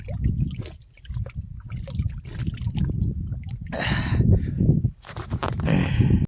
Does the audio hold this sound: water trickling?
yes